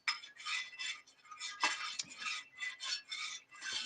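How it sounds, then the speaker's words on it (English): Melted honey and gelatin being stirred in a pot, giving steady scraping and rubbing strokes of a utensil against the pan in repeated bursts, close and moderately loud with no talking. "just give that a bit more of a stir"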